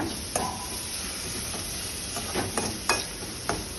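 Chicken sizzling in a pan while it is stirred with salt and spices, a constant close hiss broken by irregular scraping strokes and soft clacks of the spoon against the pan, with no talking.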